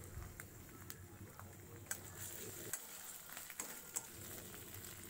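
Onion paste and ground spices frying in a pan on low heat, soft steady sizzle with occasional spoon knocks as it is stirred.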